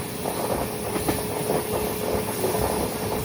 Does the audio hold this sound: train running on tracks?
yes